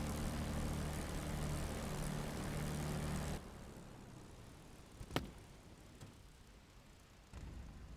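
A TF-51D Mustang's engine shuts down in the DCS World flight simulator. A loud, steady engine drone cuts off abruptly partway through, leaving a quieter hum, a single sharp click and a faint rise near the end.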